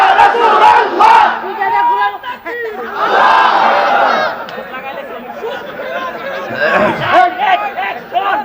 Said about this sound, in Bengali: একটা স্লোগান দেন ইনশাআল্লাহ।